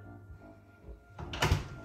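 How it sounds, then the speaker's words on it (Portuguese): A door opens in a home with a dull knock and rattle followed by a brief louder burst of handling noise, close by, with no talking over it. "Abre aí a porta"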